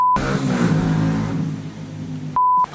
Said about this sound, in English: Oh my god, the traffic.